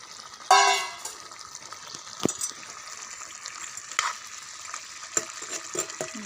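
Water goes into a pan of sizzling duck meat with a sharp gush and hiss, followed by quieter bubbling and a few clinks as it settles; no speech.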